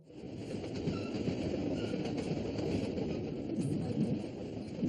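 Continuous low rumble of a train rolling along rails, heard from inside, with a steady rattling drone and faint squeals from the wheels.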